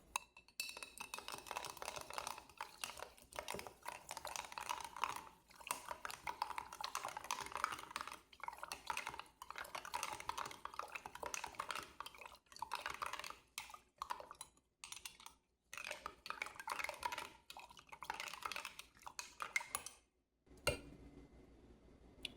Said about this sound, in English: Now I'm going to stir, so I won't talk.